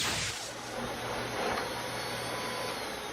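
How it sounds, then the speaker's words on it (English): A solar-powered vacuum cleaner runs loud and close, a continuous whooshing roar that holds steady for a few seconds with no voices. "noise doesn't matter when you've got a solar-powered vacuum cleaner, because that's what this is"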